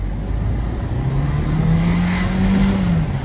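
A 2022 Jeep Renegade 4x4 Limited with the 1.3 turbo engine is pushed to full throttle. The engine drones loud and steady while the pitch rises slowly, heard from nearby with no talking.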